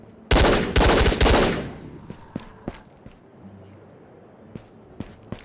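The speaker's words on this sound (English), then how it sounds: "this armor absorbed all of those Tommy shots" A Thompson submachine gun fires in the Ghost of Tabor game: three loud, rapid bursts in quick succession, followed by scattered dull thumps and footstep-like knocks as things quiet down.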